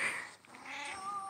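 A pet cat meows close by, a drawn-out, wavering cry that rises and bends, clear against a quiet room.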